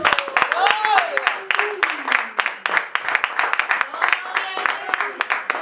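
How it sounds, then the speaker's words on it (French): A church congregation claps in a quick, steady rhythm, with a voice carrying a tune over the dense patter of hands. "Dans tous les cas, on acclame pour la gloire de Dieu."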